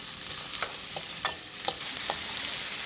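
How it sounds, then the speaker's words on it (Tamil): Onion sautés lightly in oil, a soft steady sizzle with a few quick scraping stirs and taps of a utensil in the pan, close and moderately quiet with no talking. "இந்த வெங்காயத்தை வந்து எண்ணெய் போட்டு நல்லா ரொம்ப வணக்கக்கூடாதுங்க, லைட்டாக வணக்கிக்கலாம்."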